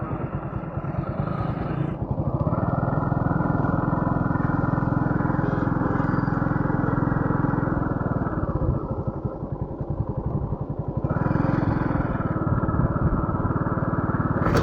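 A motorcycle engine runs loudly and close by, idling with a steady rough chug before the accelerator is twisted and the revs swell, then dip and rise again, with no speech over it.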